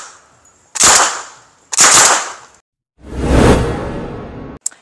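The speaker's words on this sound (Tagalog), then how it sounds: "Gagamit tayo nitong grease gun. Still doon pa rin sa driver side na glass." A grease gun submachine gun fires into the driver-side glass of an armored SUV during ballistic testing: three loud, sharp bursts in quick succession, each ringing briefly, with a final short crack at the end.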